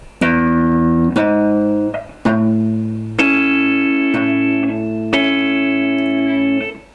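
An A barre chord on guitar is picked with the thumb on the sixth string followed by strings three, two and one, repeated in a clear, ringing pattern of separate plucked notes with no talking.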